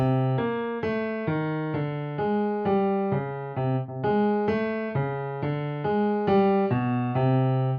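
Piano plays a steady sequence of notes, the bass line stepping by half steps into target notes beneath sustained chords, clear and evenly paced.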